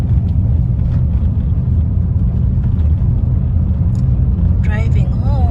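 A car driving on the road heard from inside as a steady loud low rumble that runs the whole time, with faint chatter and a brief high electronic tone near the end.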